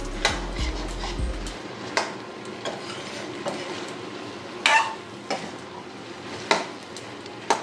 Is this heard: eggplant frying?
yes